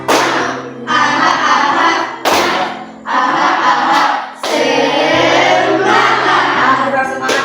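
A group doing the tepuk semangat spirit clap, loud rhythmic clapping in repeated bursts, with gaps between phrases and voices chanting along.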